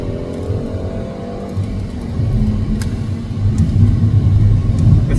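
Peugeot 308 GTI being driven through a near U-turn, its engine a steady low rumble inside the cabin that grows slightly louder and fuller partway through, with road and tyre noise underneath and no talking.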